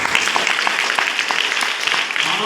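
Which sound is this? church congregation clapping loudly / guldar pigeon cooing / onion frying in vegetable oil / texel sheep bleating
church congregation clapping loudly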